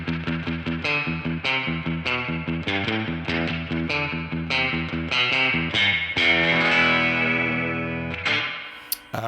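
Electric guitar through a spring reverb on a Genome amp simulator, a run of picked chords and notes with a wet, slightly distorted, shimmering tail that swells into a sustained chord before fading; no talking.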